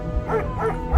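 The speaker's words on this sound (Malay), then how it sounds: "Tiba-tiba tengah bunyi anjing menyalak." A dog barks twice at night near a small bedroom window, with loud, fairly close yaps standing out over a low background hum.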